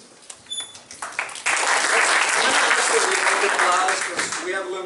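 Audience applause at a Brickell homeowners meeting in Miami, starting with scattered claps that swell into a sustained burst of clapping, with a voice speaking over it.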